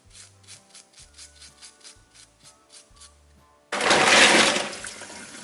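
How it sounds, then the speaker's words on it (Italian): A new steel wool pad scrubs mussel shells in a steady back-and-forth rhythm of rasping strokes, then running tap water gushes loudly over the mussels. "Se graffiando con il coltello sulle cozze rimangono ancora dei residui, usate una paglietta di acciaio"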